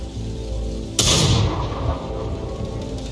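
A Sexton self-propelled artillery gun fires once in World of Tanks, a sharp heavy boom that rolls into a rumbling decay over a steady engine-like drone, close and loud with no talk.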